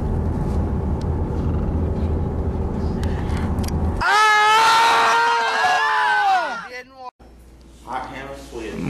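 People scream loudly together in a burst lasting about three seconds, rising and falling, set against a rumbling vehicle-like background, with a short voice afterward.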